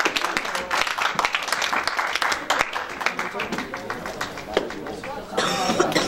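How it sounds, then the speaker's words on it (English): Applause for a student from a classroom audience at a humanities camp lecture, uneven and fairly close, with coughs and talking mixed through the clapping. "let's give him a round of applause."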